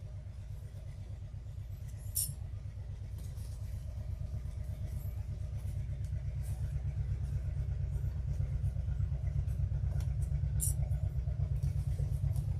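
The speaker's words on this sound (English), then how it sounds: "My nephew is driving one of the old tractors, it sounds like." An old tractor runs nearby with a low, steadily pulsing engine chug that slowly grows louder, joined by a couple of faint clinks.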